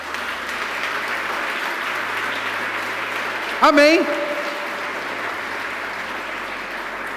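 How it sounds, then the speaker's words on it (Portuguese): A church congregation applauds during a sermon, a steady, dense wash of clapping that holds evenly for several seconds while a single voice calls out briefly in the middle. "Então aplauda o Senhor"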